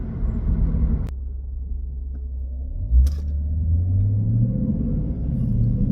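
A Lexus IS500 fitted with an Apex'i N1 Extreme exhaust cruises slowly through town at about 45 mph, giving a steady low exhaust rumble with a brief surge near the middle and no talking.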